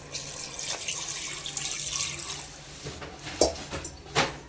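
Water splashes and runs into a cooking pot for boiling beef for curry, a continuous hiss of pouring with a few louder splashes and clunks toward the end.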